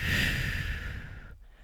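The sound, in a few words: person exhaling during sophrology breathing exercise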